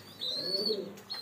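Pigeons in a breeding loft in Rajbari, one sitting on eggs, give low soft coos over a faint high chirping tone, close and steady for about a second.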